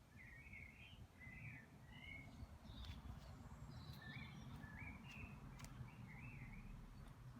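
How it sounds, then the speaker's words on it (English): Birds in a garden flower bed on a dry day give short, high chirps and warbling phrases again and again. They are faint and sit over a steady low rumble of background noise, with no talking. "You hear birds,"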